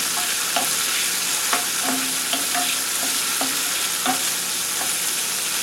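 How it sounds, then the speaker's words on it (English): Vegetables with turmeric stirred and frying in a pan, a steady loud sizzle with a series of soft spoon taps and scrapes scattered through it, no voices. "Give this a good stir."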